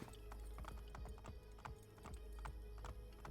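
Horse hooves clip-clop steadily and evenly in the Assassin's Creed video game, a rhythmic run of fairly close strikes over a constant low background rumble.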